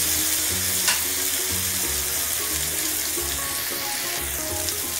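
Tomatoes sizzle and fry in a pan while ginisang talong is cooked, a steady bright crackle with occasional stirring and faint water sounds, no one talking.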